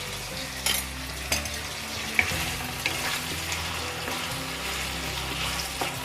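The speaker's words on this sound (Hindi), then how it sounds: "जब तक हमारे टमाटर सॉफ्ट हो जाते हैं जब तक हमें इसे फ्राई करना है।" Tomatoes sizzle and fry in a pan over a low-to-medium gas flame, salted for a dum aloo base, with a steady crackle broken by a few louder stirring clinks and scrapes.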